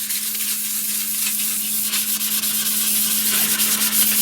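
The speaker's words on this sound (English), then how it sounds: "mat it off, which will also give it a good bond to the powder coat" Abrasive sanding of a shiny stainless steel sheet to dull it to a matte finish, a steady close rasping rub that runs continuously without a break.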